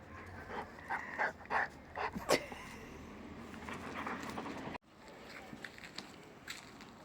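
A dog pants and whimpers close by in short bursts, with soft snuffling and a few higher whines in between.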